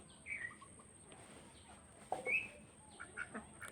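Ducks near a wooden duck house beside a chicken coop on a rural homestead give a few scattered calls and short chirps, one louder burst near the middle, over a faint steady hum.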